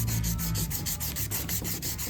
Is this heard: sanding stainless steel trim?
yes